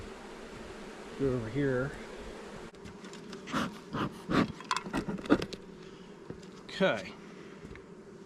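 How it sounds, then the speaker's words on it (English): Nurse honey bees buzz around an open hive box during queen rearing, a steady low hum with several louder close passes near the listener, while a person speaks briefly over it. "We're going to grab some nurse bees"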